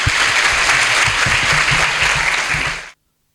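Audience applause at a lecture, dense loud clapping from a large crowd that continues for about three seconds before cutting off abruptly into silence.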